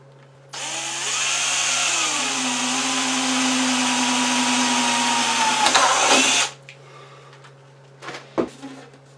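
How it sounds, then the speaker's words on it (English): A power drill whirs steadily and loudly for several seconds, drilling a hole for a woodstove chimney in a school bus, its pitch dipping slightly as it bites, then stops, followed by a few handling clunks. "Now I take the drill"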